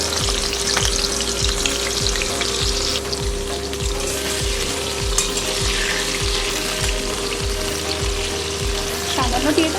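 Pumpkin pieces fry in a pan with a little salt, giving a steady sizzle broken by regular, rhythmic clicking scrapes from stirring throughout.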